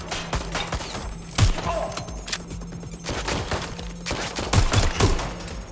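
Gunfire in the video game Watch Dogs: Legion crackles in rapid, overlapping bursts and single shots with heavy thumps, while shouted voices call out over the firefight.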